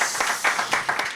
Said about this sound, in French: On t'applaudit, là,